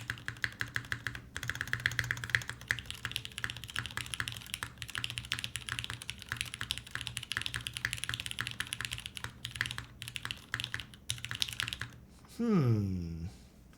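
Steady clacky typing on a CW60 mechanical keyboard fitted with GMK keycaps, dense key presses carrying on throughout at close range, with a brief voice breaking in near the end.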